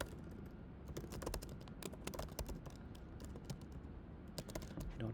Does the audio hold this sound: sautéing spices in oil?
no